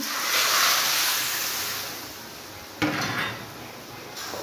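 Water poured into a cooking pan in a home kitchen, a steady rushing hiss at first that gradually fades, then a short clank of the pan and a softer sizzle.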